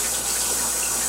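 Tap water runs steadily into a sink for hand washing in a home kitchen during sourdough bread making, a close, continuous broadband rush with no talk.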